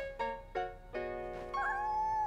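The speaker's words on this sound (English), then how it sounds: "It's a kitten! It's a kitten!" A cartoon kitten meows faintly three or four times in a row, and the last meow is drawn out and wavering.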